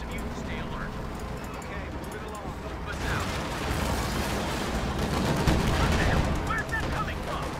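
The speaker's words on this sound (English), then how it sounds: "Oh, it's an anti-tank gun." Anti-tank gun fire in the Company of Heroes 2 Ardennes Assault battle, dense bursts of gunfire and booms layered over a continuous rumbling combat din, with someone talking over it.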